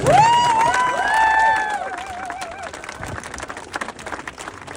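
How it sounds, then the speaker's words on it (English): A welcoming crowd in Wellington greets an open-water swimmer finishing his marathon swim: a loud drawn-out cheer opens, then scattered clapping and crowd noise continue more quietly. "let's give that a round of applause"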